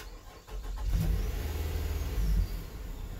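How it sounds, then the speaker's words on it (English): A Nissan Pathfinder engine cranks and catches, settling into a low idle rumble heard up close with no talk. "let's go ahead and start it up and put it under full load"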